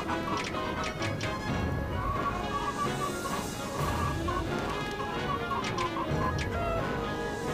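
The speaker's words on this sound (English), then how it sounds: "Can't grab that fucking chicken." Chickens cluck and squawk repeatedly and fairly close in Wallace & Gromit's Grand Adventures, a steady busy stream of fowl calls over a dense background with occasional knocks.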